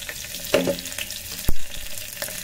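Chopped garlic and green chilies frying in hot oil inside an electric kettle, with soft sizzling crackle and a few sharp pops and spatters rising over a low background hiss.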